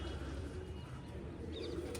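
Pigeons coo softly in a coop, with low murmuring calls and a faint chirp over a steady background hum.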